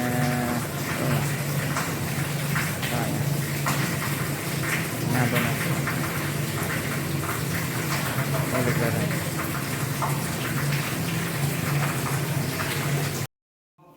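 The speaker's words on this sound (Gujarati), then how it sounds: "વરસાદ ચાલુ છે" Steady rain hisses and patters throughout, with a low engine-like hum underneath and faint voices, ending abruptly.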